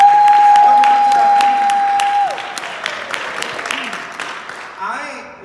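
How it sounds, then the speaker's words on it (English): Audience clapping for teenagers in a room, with a steady tone sounding at first and voices mixed in, the applause fading gradually toward the end. "I want to give them a round of applause"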